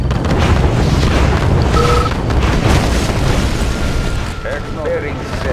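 Missile strikes in the Red Alert 2 Soviet campaign finale: a dense, loud, continuous rumble of booming explosions lasting several seconds, with faint game effects and unit voice lines mixed in.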